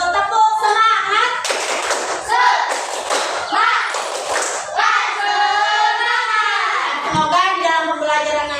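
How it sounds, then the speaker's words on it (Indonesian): Classroom of children performing the rhythmic tepuk semangat spirit clap, loud chanting voices mixed with bursts of patterned claps and thumps close by, alternating between chant and clapping. "Tepuk semangat."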